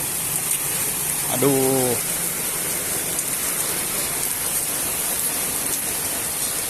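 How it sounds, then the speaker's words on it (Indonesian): Steady rain hisses down outdoors as a continuous broadband wash, with a brief voice exclaiming near the start over it. "sambil nunggu hujannya reda"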